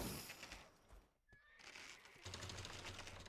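Horse neighing in the video game Black Desert, a single mid-clip whinny standing out briefly over steady game ambience and background noise.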